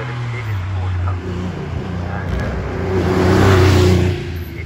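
An air-cooled 3.6-litre Porsche 911 964 Carrera 2 Cup car climbing the hill at Shelsley Walsh, its engine note swelling louder and rising as it passes, with a voice talking over it.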